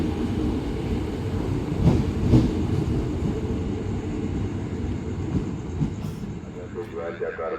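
A CRRC electric commuter train rolls through Depok station at night on its way back to the depot, with a continuous deep rumble of wheels and motors, a few sharp clanks and rattles, and a faint high whine near the end.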